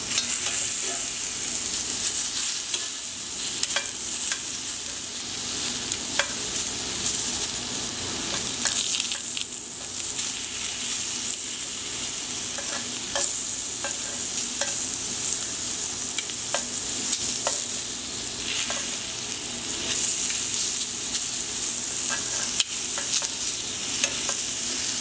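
Steak searing in a pan after being flipped, a steady close hiss and crackle of frying that holds throughout with occasional small pops and utensil taps.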